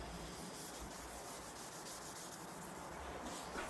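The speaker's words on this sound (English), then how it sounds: "Alright, I got my 320 grit Scotch-Brite. Just gonna scuff this up as good as I can." A 320 grit Scotch-Brite pad scuffs a cured epoxy surface in a continuous, quiet, gritty rubbing with small bursts of stroke noise and no speech.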